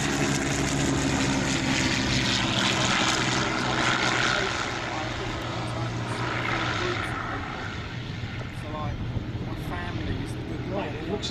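A vintage Avro 504 biplane flies past at an airshow. Its propeller engine gives a continuous drone that stays steady and fairly loud, then gradually fades as it moves away, with a public-address commentator talking over it.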